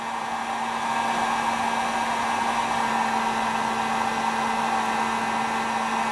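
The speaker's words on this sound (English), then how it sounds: "I'm gonna throw this heat gun right on the ignition coil on high" Heat gun on high setting blowing onto a motorcycle stator ignition coil, a steady close whirring roar with a constant hum that runs unbroken for six seconds, no voices.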